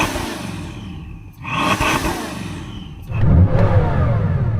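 A sports car engine revs hard, hits a soft limiter at 4,000 RPM and drops back, then climbs again into a louder, deeper sustained roar, heard close and alone.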